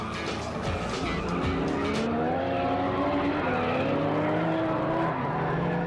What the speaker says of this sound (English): NSX Type R dashes off,